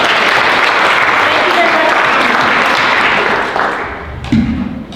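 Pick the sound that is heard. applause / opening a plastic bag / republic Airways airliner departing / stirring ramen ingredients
applause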